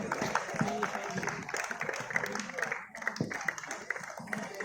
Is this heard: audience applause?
yes